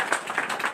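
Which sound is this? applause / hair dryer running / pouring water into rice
applause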